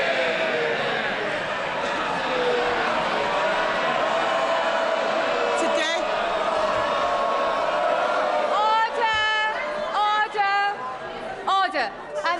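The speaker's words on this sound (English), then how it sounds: "the Chief Whip in particular knows that we don't allow clapping in the chamber" A crowded House of Commons chamber fills with dense cheering and noisy chatter, a continuous roar of many voices with brief whoops and calls near the end.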